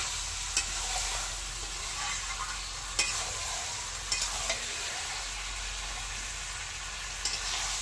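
Chicken fries in a pan over a village kitchen fire, with a steady loud sizzle throughout and a few sharp scraping clicks as it is stirred.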